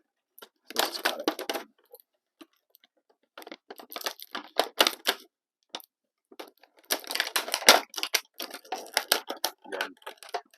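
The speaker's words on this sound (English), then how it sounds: "I don't care about this plastic. So let's just cut it." Scissors snip through the plastic packaging of a MOTU Masterverse Buzz-Off action figure. Several close, crisp bursts of cutting and crinkling are separated by short pauses.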